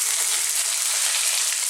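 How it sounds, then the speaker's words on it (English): Whole spices pop and crackle in hot oil for a vegetable masala curry, a steady dense sizzle with fine crackles throughout, close and loud with no talking. "as you can hear, they're popping and crackling."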